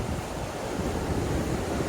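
Ocean waves wash onto a small, rocky, secluded beach in Cape Town, a steady close roar of broken surf with gusty wind noise and no voices.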